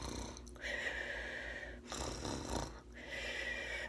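A reader's voice imitates a wolf snoring loudly, with two long drawn-out snore breaths separated by a short pause, close and alone.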